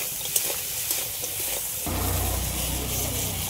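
Salt-and-turmeric-coated crab and other ingredients frying together in a pan, a steady close sizzle that swells louder partway through as more hits the hot oil.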